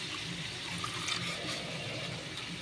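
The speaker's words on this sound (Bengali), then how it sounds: "একটু জল দেবো, বাটিটা ধুয়ে" Water poured into a bowl to rinse it while cooking a fish curry with potato and eggplant, a short continuous splashing trickle at moderate volume, with no voices.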